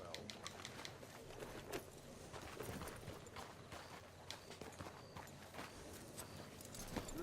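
Horse hooves clip-clop at a walking pace through a Red Dead Redemption 2 plantation, soft and steady beneath faint ambient bird chirps and low background noise.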